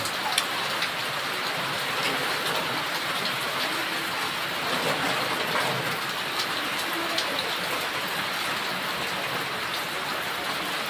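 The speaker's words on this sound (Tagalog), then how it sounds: "inabot na tayo ng ulan" Steady rain falls on a surface with a dense, continuous hiss and scattered drop patters, constant in level throughout with no voices.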